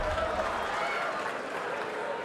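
A darts crowd at the BDO World Championship 2017 semi-final keeps up steady cheering and applause, a dense, even wash of noise from the camps with some talk beneath it.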